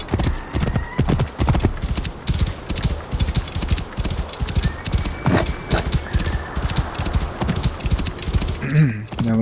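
Horse hooves clip-clop in a steady rhythmic gait in Assassin's Creed Origins, with game ambience beneath and a brief whinny near the end.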